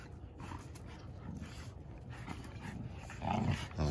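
Dogs tug back and forth on a shoestring, giving close, continuous scuffling with panting, low growls and small whimpers, louder and rougher toward the end.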